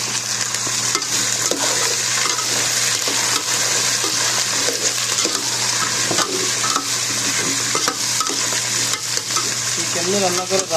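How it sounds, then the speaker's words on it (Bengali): Onion and garlic fry in a little oil with dried chili nearby, giving a loud, constant sizzle with scraping stirs and occasional clinks of a utensil against the pan. "আমি হালকা একটু তেলের মধ্যে ভাজতে নিচ্ছি"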